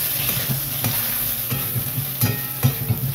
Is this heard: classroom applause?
no